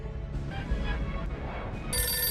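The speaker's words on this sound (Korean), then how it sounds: "다급한 전화벨." Telephone ringing urgently in a tense film scene, a short faint electronic ring over a low background, with a brighter tone cutting in at the very end.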